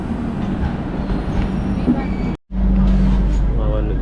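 Inside an AC sleeper coach of a late-running Indian passenger train, a continuous low rumble and steady hum fill the space, with faint voices in the background and a brief gap partway through.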